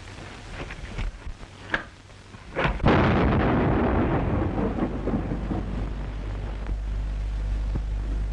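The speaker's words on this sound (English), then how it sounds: "The explosion. It got him." An explosion in an old 1935 film serial bursts as a sudden heavy boom, then rolls into a long rumbling roar that slowly fades.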